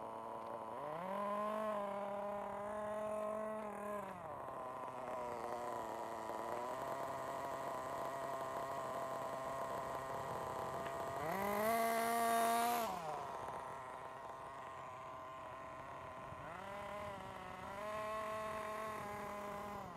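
A Kyosho Inferno Neo nitro RC car engine runs at full throttle, its loud, buzzing whine rising and holding in several sustained bursts, with drops in pitch between pulls and one especially sharp, screaming peak.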